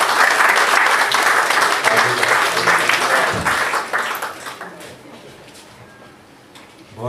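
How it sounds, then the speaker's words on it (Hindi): An audience at a London mushaira poetry gathering gives the poet Basir Sultan Kazmi full, loud applause that stays dense for several seconds before thinning out and trailing off near the end. "आपकी भरपूर तालियों में बासिर सुल्तान"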